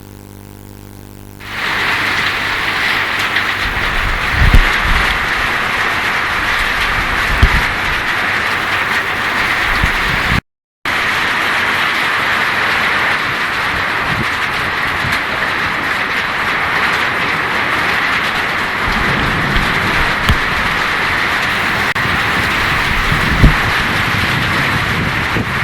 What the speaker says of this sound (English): That was the rain we got.